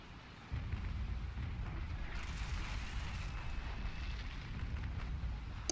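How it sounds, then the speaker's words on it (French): Cannon fire from a naval warship battle in the Naval Action game: a sudden heavy boom followed by sustained rumbling low roar lasting several seconds, fairly quiet overall with no talk. "je sais pas ce qu'il a comme canon cet enfoiré, mais putain, il envoie"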